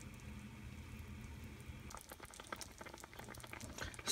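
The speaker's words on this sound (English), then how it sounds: "Then I'm gonna leave the lid open and let it simmer for another 30 minutes" Chicken adobo simmering in an open, lidless pot gives a steady, quiet bubbling and sizzling that becomes busier and more crackly partway through, heard alone with no talk.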